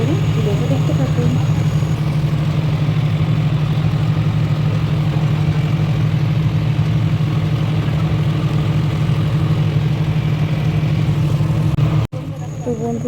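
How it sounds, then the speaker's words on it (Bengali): A passenger launch travels on the Hooghly river from the Naihati ferry ghat, its engine making a steady, loud, low drone throughout, with voices audible over it. "আমি কিন্তু লঞ্চে উঠে পড়েছি, লঞ্চ কিন্তু চলা শুরু করে দিয়েছে"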